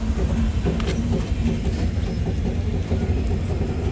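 The Siphung Express rumbles and clatters at Chaprakata station's empty platform 2 in Bongaigaon district, a loud, steady mechanical drone with faint clicks and no voices.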